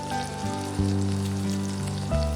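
Cumin seeds crackling and sizzling in hot oil for a Bengali mutton and cabbage curry, a steady close frying hiss with a low tonal hum beneath, no talk.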